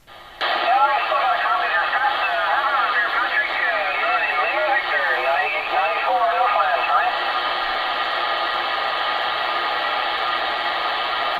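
Amateur radio receiver hissing with loud, steady static across the whole stretch, broadband noise with faint warbling tones and a distorted, barely intelligible voice buried in it during the first seven seconds.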